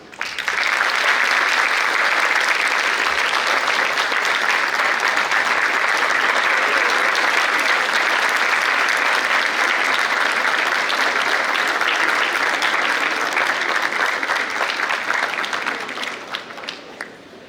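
An audience at a conversation event gives sustained, dense applause to welcome a guest speaker, loud and steady for about fifteen seconds before tapering off.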